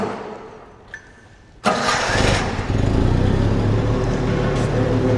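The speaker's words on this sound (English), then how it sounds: "gonna hop on the forklift and run it" A forklift engine cranks and catches suddenly, then settles into a loud, steady rumbling idle close by.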